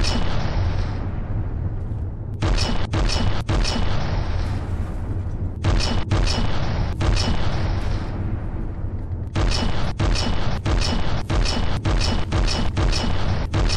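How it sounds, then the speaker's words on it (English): Naval gun salvos striking an enemy ship's ammunition supply in the naval combat game From the Depths: a continuous roar of heavy explosions punctuated by repeated sharp cracks, loud and close throughout. "we hit the ammo supply!"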